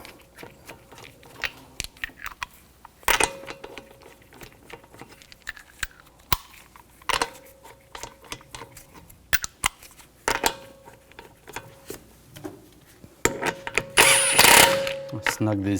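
A socket ratchet snugs down the wheel lug bolts on a 2011-2018 Volkswagen Jetta TDI wagon, making scattered bursts of clicking and metallic taps, with a louder, longer burst near the end.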